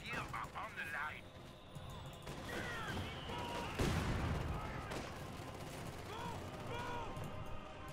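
Battlefield gunfire from a Company of Heroes 2 match, with repeated shots and bursts over a steady noisy backdrop and a heavier blast near the middle, while a voice talks over it.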